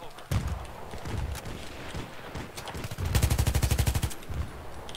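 ACW-R rifle firing in Battlefield 3: scattered shots and then a fast rhythmic burst of close, loud gunfire, with game noise and occasional voices around it.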